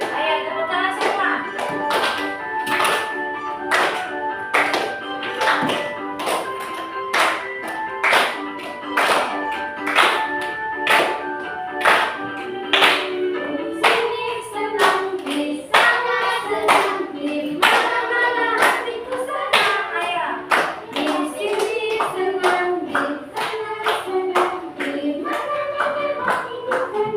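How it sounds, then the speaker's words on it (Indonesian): A classroom group claps hands in a steady, even beat for a long stretch, loud and close, with singing voices carried along under the rhythmic claps. "Ayo tepuk tangan semua."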